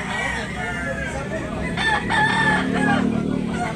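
A rooster crows at a cockfighting rooster market in Tabunok, Talisay, Cebu: one loud, drawn-out crow in the second half, over a bed of clucking fowl and nearby voices.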